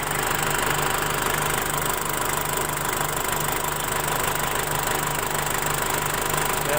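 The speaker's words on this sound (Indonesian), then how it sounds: "Kalau saya biasa sih saya biarkan idle aja sampai habis obatnya." A 2004 Ford Ranger TDi diesel engine idles during an injector cleaning, giving a steady, close, continuous clattering rumble with an even knock that holds level throughout.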